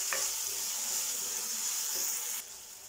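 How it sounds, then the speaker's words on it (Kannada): Tomato and onion frying with salt for vermicelli upma give off a close, steady sizzling hiss that drops sharply in loudness near the end. "ಅಂದರೆ ಚೆನ್ನಾಗಿ ಫ್ರೈ ಆಗುತ್ತೆ ಎಲ್ಲ, ಟೊಮೆಟೊ ಮತ್ತು ಈರುಳ್ಳಿ ಎಲ್ಲ ಚೆನ್ನಾಗಿ ಬೇಯಿಸ"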